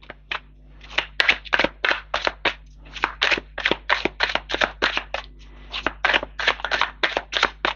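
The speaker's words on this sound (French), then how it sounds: "Je vais tirer 3 cartes." A tarot deck is shuffled and cards are drawn, a string of crisp regular riffling and slapping strikes of paper cards, close and clear over a faint steady hum, with no talking.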